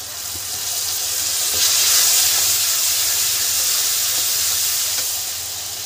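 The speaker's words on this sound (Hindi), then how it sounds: "अब इसमें हम ये देखिए लहसुन अदरक का पेस्ट डालेंगे" Garlic ginger paste hits frying onions in a pan for yogurt chicken, producing a broad, steady hissing sizzle that swells and then fades gently, close by with no talking.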